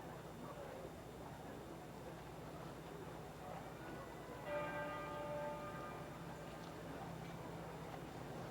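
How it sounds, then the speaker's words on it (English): Tenor church bell pealing in London at Princess Diana's funeral, a single resonant strike ringing out fairly faintly over a low crowd murmur, its tone slowly fading. "The tenor bell pealing again."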